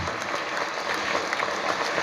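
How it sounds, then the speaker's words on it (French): Audience applause and acclamation at an outdoor community talk in Owendo greet a president's arrival, a faint, steady wash of clapping heard from a distance. "Sous vos acclamations, le président Gomo."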